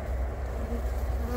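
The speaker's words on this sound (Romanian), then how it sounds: "aici avem albinele foarte liniștite" Calm honey bees in an opened hive, fed a sugar-only fondant patty, give off a steady, close, continuous buzzing drone with no break.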